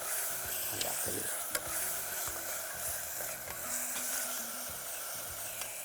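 Curd sautéing in a pan with stirring, a steady sizzle and scraping of a ladle over the whole stretch, with a few sharp clinks, no voices.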